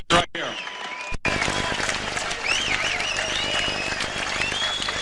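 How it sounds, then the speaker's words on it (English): Arena crowd applauding two veteran boxers after a long fight, dense sustained clapping and cheering with whistles over a loud announcer-style voice speaking throughout. "another round of applause for these two veteran fighters"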